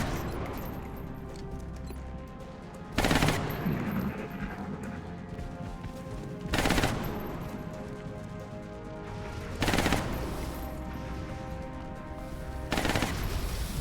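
Video-game gunfire from XCOM: Enemy Unknown, with short loud bursts of shots every few seconds over a steady bed of background game sound.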